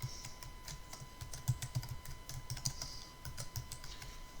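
Rapid, quiet clicking of a computer keyboard while entering text into a Microsoft Word document, with irregular keystrokes in close succession over a faint steady hum.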